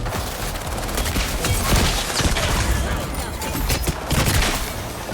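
Gunfire and a grenade blast in the shooter game Highguard: dense, continuous bursts of shots crackling loudly throughout, with sharp impacts mixed in.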